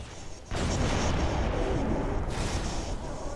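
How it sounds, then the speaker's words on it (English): The Arbiter firing a rocket launcher in Halo 3: a sudden loud blast opens into a sustained, heavy roaring rumble that lasts several seconds, then eases slightly. "hopefully the Arbiter will move up and engage with his infinite ammo rocket launcher, like so."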